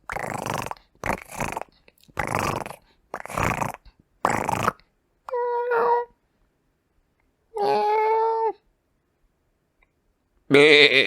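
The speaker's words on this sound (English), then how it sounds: "Oh, that was the sound of a goat." Several short wheezy rasping sounds followed by a few wavering, nasal bleats, spaced apart with silence between.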